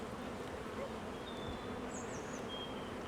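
Honey bees buzz around an opened hive during an inspection, a soft, continuous drone that holds steady throughout with no talking over it.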